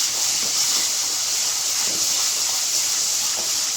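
Green chilies and Kashmiri chili paste fry in oil for a ginger masala, giving a steady close sizzling hiss with faint soft pops throughout.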